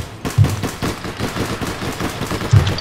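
Rapid bursts of automatic gunfire from the online shooter APB All Points Bulletin, a repeated crackle of shots with two louder peaks, dense and close with no talk over it.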